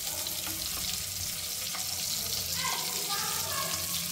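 Stuffed bitter gourd (gutti kakarakaya) frying in a pan, with a steady, fairly loud crackling sizzle throughout and a few faint clinks and scrapes from stirring.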